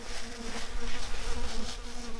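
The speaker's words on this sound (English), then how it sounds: "But even out here on the lake, the mosquitoes follow you." Mosquitoes whine in a steady, close drone out on a wilderness lake during a canoe trip, a continuous insect buzz with no talking.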